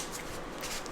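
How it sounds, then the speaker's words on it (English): Tarot cards are shuffled in a quick, soft riffling burst lasting under a second, close and fairly quiet, with no speech. "I'm just going to shuffle the cards a couple more times here"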